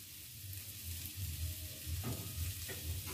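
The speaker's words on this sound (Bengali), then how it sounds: "গাজরটা যখন হালকা একটু ভেজে যাবে" Carrots sizzle in a pan with a constant frying hiss, a low hum underneath and occasional stirring scrapes, while making homemade egg rolls.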